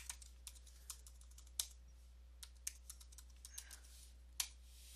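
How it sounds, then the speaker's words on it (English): Typing a password on a computer keyboard: irregular, fairly faint clicks of individual keystrokes spread across a quiet room with a steady low hum underneath, no talking. "I'm just gonna type my password."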